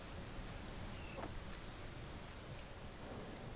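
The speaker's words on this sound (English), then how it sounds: "I think I might want to wait for the rain to clear up" Steady rain patters in the Space Engineers game world, a soft, quiet wash of noise that runs unbroken, with a low rumble that may be distant thunder beneath it.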